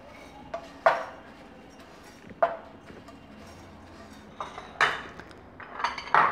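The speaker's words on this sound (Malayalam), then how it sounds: "ഇനി നമുക്ക് ഇതൊരു പാത്രത്തിലേക്ക് മാറ്റിവെക്കാം." Roasted flattened rice being moved into a vessel makes scattered clinks and scrapes of a utensil against the pot. A few sharp hits stand out over a quiet, low background.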